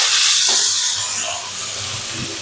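Mustard seeds, urad dal and two dried red chillies crackle and splutter in hot oil for a Tamil buttermilk curry (mor kulambu), a steady loud hiss with a few soft pops, no voices.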